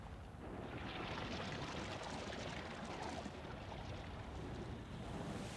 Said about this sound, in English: The water drains.